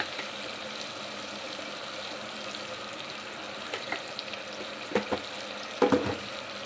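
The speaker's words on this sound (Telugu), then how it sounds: "పచ్చివాసన పోయే వరకు ఫ్రై చేసుకోవాలి" Ginger garlic paste and turmeric fry in oil for a prawn curry, giving a faint steady sizzle with a few brief clinks and stirring scrapes toward the end and no speech.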